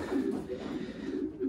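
Racing pigeons cooing softly inside newly built nesting boxes, a low, murmuring coo close by that carries on through the short stretch.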